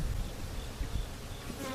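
Honey bees at a strong hive with a freshly introduced queen, a dense continuous droning buzz close to the listener with slight swells in loudness, with no voices.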